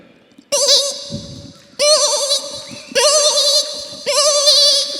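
A person's voice on stage at a school annual day imitates a newborn goat kid, giving four high, wavering bleats in a steady series with short pauses between them.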